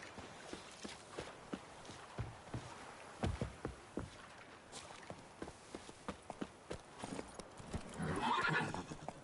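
Roach, Geralt's horse in The Witcher 3 video game, gallops with a rapid, irregular run of hoof clip-clops and ends in a loud neigh. No one speaks.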